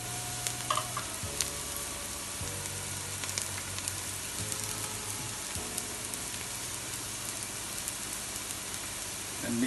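Chopped onion and garlic fry in a pan for a lamb bolognese sauce, a steady close sizzle with occasional stirring scrapes and soft pops running continuously.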